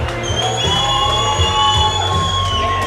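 A boxing crowd at a Hybrid Boxing League bout erupts in loud, sustained cheering, shouting and whooping right after a second-round knockout, with whistles ringing above the roar.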